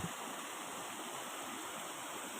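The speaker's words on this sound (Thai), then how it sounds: "อันนี้ก็มาถึงน้ำตก น้ำตกกองแก้ว" Kong Kaew waterfall in Khao Yai National Park, Thailand, pouring in a steady broadband rush of falling water, close and continuous with no voices.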